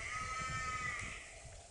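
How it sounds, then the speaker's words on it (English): A nearby sheep gives one drawn-out, wavering bleat against a steady outdoor background, with no talking. "That's a normal sheep over there."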